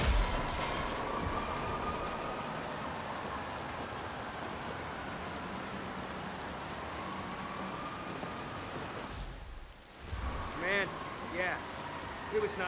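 Steady rain hisses on surfaces outdoors in Chongqing, China, in the stealth game Hitman 3, a soft continuous wash with a short dropout near the end followed by faint scattered tones.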